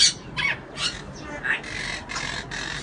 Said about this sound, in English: these are my monk parrots